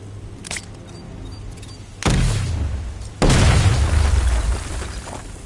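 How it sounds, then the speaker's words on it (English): Two loud explosive blasts in a Batman Arkham game as a charge destroys a wall, the first booming near the two-second mark and a heavier second detonation following about a second later, each with a rumbling decay. "Close and apply the explosive directly to destroy that wall."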